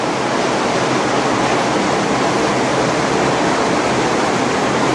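A water hose rinses down a Passat car inside a paint booth, a loud, steady spraying hiss that runs unbroken throughout with no voices.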